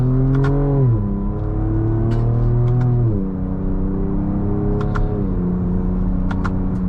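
A 2024 Ford Ranger Raptor with a twin-turbo V6 accelerates hard, its loud engine climbing steadily through the revs with several sharp drops at gear changes, heard up close with no talking.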